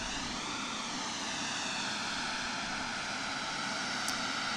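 Steady, loud roar of an aircraft engine at Portland International Airport, a continuous near drone with no talk over it.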